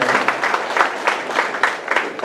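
Audience at a Rotary club installation function applauding to welcome the district governor and guests, steady dense clapping throughout with a few sharper claps standing out.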